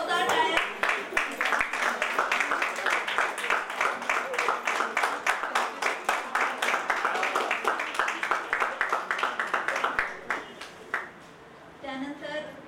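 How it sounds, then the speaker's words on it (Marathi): A crowd at a reunion claps loudly and rapidly in sustained applause for about eleven seconds, with voices mixed in. The clapping then stops abruptly and faint murmuring follows. "जोरदार टाळ्या."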